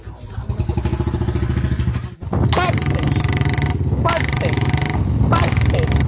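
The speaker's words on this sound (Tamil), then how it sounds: "டேய் புல்லட்னா இப்படி பட்டு பட்டுன்னு ஓட்டினா தானே சும்மா பட்டாசா இருக்கும்" A Bullet motorcycle engine thumps in a fast, steady rhythm while being ridden, loud and close, with a brief dip before the beat resumes and voices talking over it.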